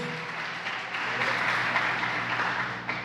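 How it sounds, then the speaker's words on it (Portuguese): Worshippers at a Portuguese-language church service applaud the Lord, a broad, steady patter of many hands swelling in the middle, with sustained low musical tones held underneath. "Vamos aplaudir ao Senhor por este momento tão maravilhoso."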